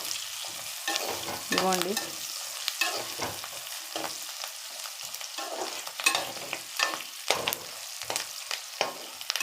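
Light frying in a pan for an egg, cashew and drumstick curry, with continuous soft sizzle broken by irregular spatula scrapes and taps; a brief word is spoken once.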